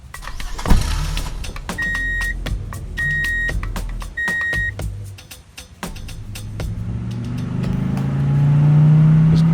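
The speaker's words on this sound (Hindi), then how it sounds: "खड़ा क्या, गाड़ी चलाना।" A car door thuds shut, a chime beeps repeatedly, and the engine then starts and rises into a steady revving drone as the car pulls away. No voices are heard.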